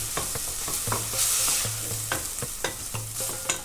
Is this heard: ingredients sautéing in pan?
yes